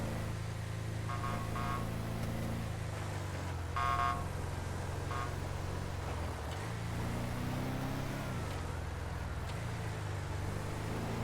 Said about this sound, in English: gives me the old toot toot, like the old salute there with the horn